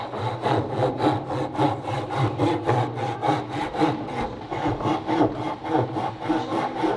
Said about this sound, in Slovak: tí tu ostanú so mnou a pekne sa prestriedame, že každý chvíľku ťahá pílku